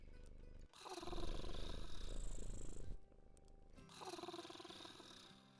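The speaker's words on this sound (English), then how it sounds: "It's been purring. Purrs louder when you pet it." Low rumbling purr from a creature in a video game, steady and close, running for a couple of seconds, then pausing and resuming a little softer, with faint game ambience around it.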